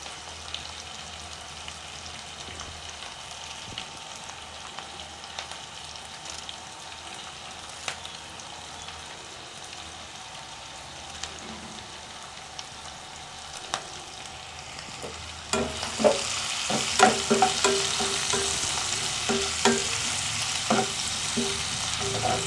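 Onions frying in a pan for a small home-cooked chicken biryani, with a quiet steady sizzle that swells louder and busier partway through as stirring clatters against the pan.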